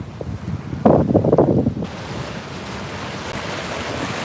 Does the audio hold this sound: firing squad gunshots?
no